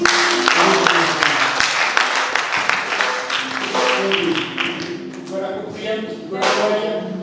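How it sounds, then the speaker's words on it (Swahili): A church congregation at a Sunday Easter service applauds, with a burst of close, dense clapping that gradually thins and loosens, overlapped by voices talking and calling out. "acha tumpigie makofi"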